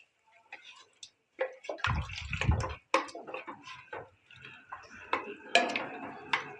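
Mash daal lentils are stirred in a cooking pot, giving intermittent clinks, scrapes and wet sloshing in short bursts, with a voice talking now and then between them.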